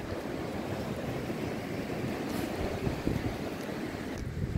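Sea surf breaking on the beach at New Brighton, New Zealand, a constant broad wash of waves and wind roar that stays steady throughout, with no voices over it.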